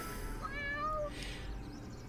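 A single clear meow from an anime cat, drawn out and rising slightly in pitch, against a quiet background.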